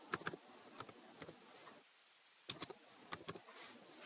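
Keys on a computer keyboard are tapped while Aadhaar details are entered online, coming in quick bursts of clicks separated by short pauses, close and fairly quiet with no voices.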